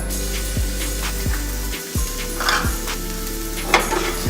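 Garlic and shallots sizzle in a hot pan, a crackling frying hiss with occasional stirring scrapes and a low mechanical hum underneath.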